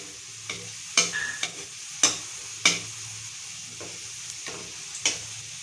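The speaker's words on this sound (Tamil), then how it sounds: "இந்தமாரி ஸ்லோவிலே வச்சு ஃப்ரை பண்ணால் தான் உள்ளே இருக்கிற ஸ்டப்பிங்கெலாம் நல்லா வேகும்" Chicken rolls frying slowly in oil on low heat, a soft continuous sizzle punctuated by a few sharp metallic taps of a utensil against the pan, close and otherwise undisturbed.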